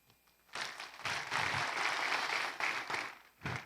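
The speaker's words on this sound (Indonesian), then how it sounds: "tepuk tangan dulu." An audience at an entrepreneurship seminar claps in short, uneven bursts that rise and fall, fairly faint, with a brief pause and then a final surge.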